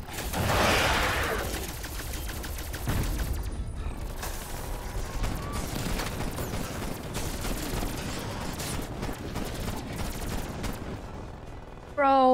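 Steady in-game gunfire from a Call of Duty Zombies match, a continuous run of shots and mechanical clatter at moderate level, ending with a sudden louder burst.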